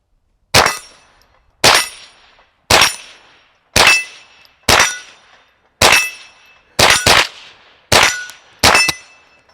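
A .22 rimfire 10/22 rifle firing at steel paddle targets 30 yards away: nine sharp shots, each with a ringing metallic clang, spaced about a second apart, two pairs coming as quick double taps, loud and close with no talking.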